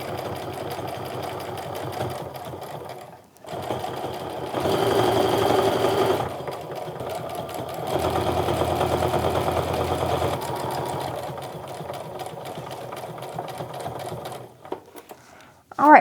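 A sewing machine stitches through a canvas and cork wristlet in long steady runs, pausing briefly and then speeding up again, loud and close, with short breaks between passes and no talk over it.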